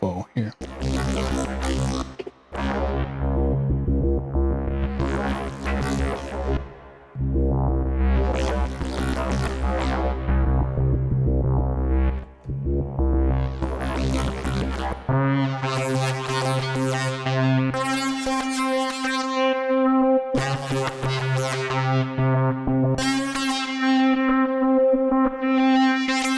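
A synthesizer patch with a pitch LFO and several modulators plays harsh, buzzing distorted tones that sweep up and down in repeated cycles, then shifts to choppier sustained notes that start and stop, loud and alone without any talking.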